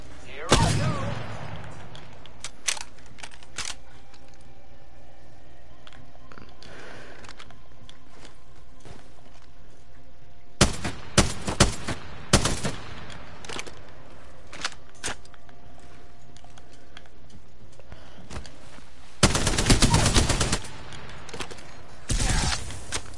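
Triple Take rifle fire in the Apex Legends video game, sharp clustered shots at the start, a scattered volley near the middle and a dense loud burst near the end, with quieter stretches between.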